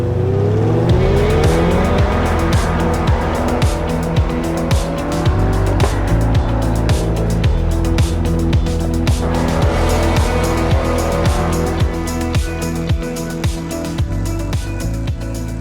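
A Corvette E-Ray with all-wheel drive power-slides and drifts on snow, its engine revving hard and its tires squealing loud and close in long repeated bursts.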